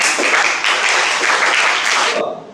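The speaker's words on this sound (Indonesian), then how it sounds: "Boleh beri tepuk tangan." A seventh-grade class applauds during a science lesson, with dense, steady clapping from many hands close by for about two seconds before it quickly fades out.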